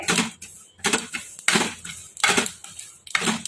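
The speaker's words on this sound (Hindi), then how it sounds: "जब भी ऐसे सारे तिल के फूटने की आवाज आए" Repeated bursts of crackling and popping in quick clusters, like seeds popping in a hot dry pan, with short pauses between bursts.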